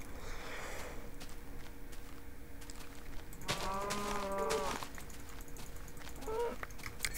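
Cows in the video game Minecraft moo, one long drawn-out call midway and a shorter one later, over faint game footsteps and background noise with no talk.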